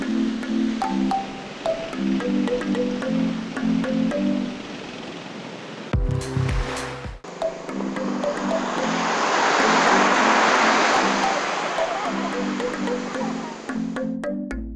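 Strong ocean waves breaking on a slippery rocky shore on Jomalig Island, a loud continuous surf roar that swells toward the end, with a brief sharp clatter partway through and faint tonal sounds.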